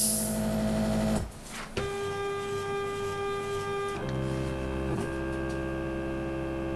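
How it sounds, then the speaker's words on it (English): Lead screws turn and drive the icing head of an icing machine, giving a steady motorized whine with tonal harmonics and a low hum, broken by clunks where the motion shifts and restarts. "You can see the lead screws turning, and as they turn, the nuts move up and down on the lead screws."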